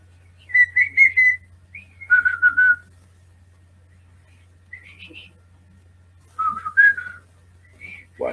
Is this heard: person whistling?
yes